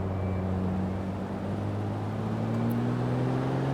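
A Porsche 911 Turbo S cruising over a bridge in England, heard from inside as a steady low engine drone with a rising tonal hum and road noise, loud and continuous without talk.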